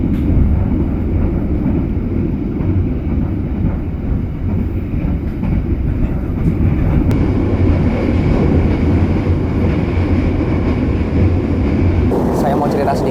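Steady loud low rumble and rattle inside a moving Pasundan New Generation passenger train, a continuous deep drone with shifting wind-like noise, close and enveloping, with no clear talking.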